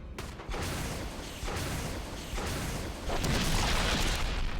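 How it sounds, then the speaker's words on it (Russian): A deep, rumbling blast from the video game Resident Evil HD Remastered swells and rolls on, with broad noisy roars building and growing louder toward the end. "Нихера себе взрыв, просто ничего не осталось"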